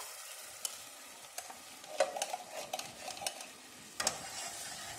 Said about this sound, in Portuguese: Vamos dar uma fogadinha nele aqui. É só a massa de tomate com alho.